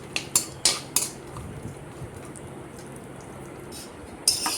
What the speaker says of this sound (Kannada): ತುಪ್ಪ ಹಾಕಿ ಅದನ್ನು ಡ್ರೈ ಫ್ರೂಟ್ಸ್ ಹಾಕಿ ಚೆನ್ನಾಗಿ ಹುರ್ಕೋಬೇಕು.